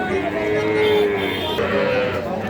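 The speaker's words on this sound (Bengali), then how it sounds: "এই পাশে একটা সার বাছুর দেখতেছি" A young bull calf gives a drawn-out moo, then a second shorter one, close and clear at a cattle market, with people talking in the background.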